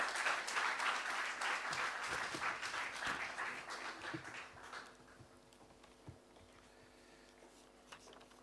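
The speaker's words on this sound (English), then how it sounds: "Please give him a warm round of applause." Audience applause welcomes a speaker to the podium at an economic report launch, a dense round of clapping that tapers off over about five seconds into scattered claps and room noise.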